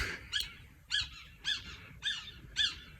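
A pigeon in a spring garden gives five evenly spaced calls about half a second apart, clear and fairly close over faint background noise.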